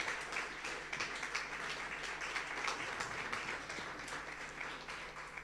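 A church congregation applauds, with many hands clapping in a dense, continuous patter that swells and eases slightly in a reverberant room.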